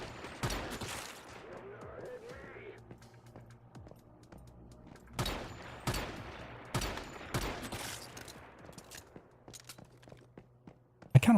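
Pistol shots ring out in the video game Once Human: a brief burst near the start, then scattered sharp cracks spaced irregularly through the second half, loud and close over a low game-ambience hum.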